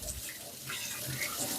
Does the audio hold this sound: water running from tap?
yes